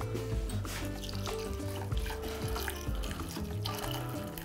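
Boiled water poured from a kettle over the tips of chicken wings in a kitchen, a steady close splashing trickle running for several seconds over a low background hum.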